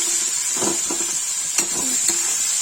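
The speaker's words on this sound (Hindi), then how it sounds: "तेल कम हो गया, अब इसे प्याज डाल देंगे" Onions frying in oil for a Kashmiri-style potato and brinjal curry, with a bright constant sizzle broken by several short scraping stirs of a spoon against the pan, close and clear, with no speech.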